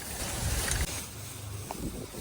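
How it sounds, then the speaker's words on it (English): Gusty wind buffets the microphone outdoors, a dense rushing roar that swells in the first second and then eases to a steady blow. "It is getting a little windy, so we have to rush it up a bit."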